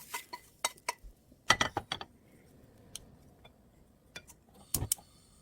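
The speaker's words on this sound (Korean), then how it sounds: "지금 빠르게 볶아주고 있습니다" Spam being stir-fried quickly in a pan, heard as scattered close metallic clicks and scrapes from a spatula, some in quick bursts, with a faint low sizzle and no talking.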